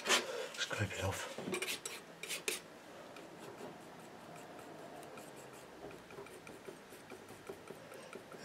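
Palette knife scraping thick oil paint off a canvas painting of a cottage on a cliff, heard as a few close, dry scraping and clicking strokes in the opening seconds, then fading to faint scratchy handling over quiet room background.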